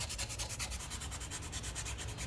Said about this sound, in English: Clean up any corrosion on the inside.